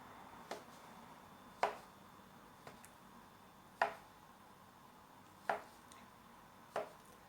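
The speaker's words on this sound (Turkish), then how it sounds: "kare yaptığım dilimleri bir de böyle dilimliyorum." A knife chops through poğaça dough in a tray, giving six crisp, evenly spaced cuts about a second apart, quiet and close against a near-silent background.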